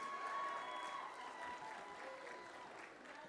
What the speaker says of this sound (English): A round of applause again for the children and the leaders of the engagement groups.